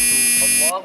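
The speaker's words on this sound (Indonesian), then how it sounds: "aku sudah dibangunkan sholat subuh oleh alarm dari aplikasi Kesan" A smartphone app alarm for the dawn prayer gives a steady, loud electronic buzzing tone that holds for most of the moment, then cuts off as a voice starts speaking.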